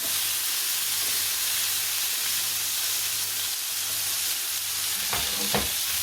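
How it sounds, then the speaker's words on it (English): Onions sizzling with garlic in a pan for Spanish paella, a steady broadband frying hiss throughout with a low hum beneath and a few stirring scrapes near the end; no voices. "Now we're just going to add the onions."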